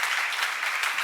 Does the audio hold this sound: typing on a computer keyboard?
no